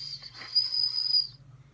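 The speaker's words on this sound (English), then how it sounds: "This whistle could be a little hard to blow into." A small whistle built into a survival folding knife, one with a straight edge, liner lock, assisted opening and fire starter, gives a thin, steady, airy tone for about a second and a half, close up and fairly quiet.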